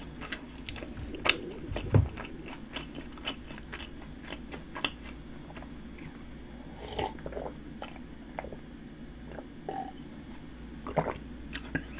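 Close, crisp crunching and wet chewing of spicy dumplings, with irregular bites and sharp crackles over several seconds and no talking.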